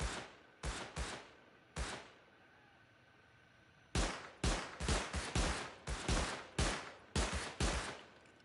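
Gunfire in sharp, loud bursts: a few scattered shots, a brief pause, then a longer run of rapid, closely spaced reports ringing out at fairly close range.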